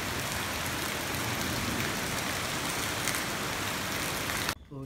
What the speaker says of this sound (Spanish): Miren lo que es ahora con la lluvia.